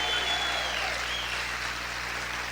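A church congregation at a Spanish-language worship service claps in a dense, fairly soft wash of applause that holds evenly from start to finish.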